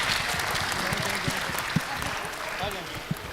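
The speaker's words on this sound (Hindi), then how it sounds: "बहुत सारी तालियां होनी चाहिए पहले इन लोगों के लिए।" Studio audience at a Pakistani game show applauds contestants for a correct answer, a steady wash of clapping with a few sharper claps and some voices mixed in.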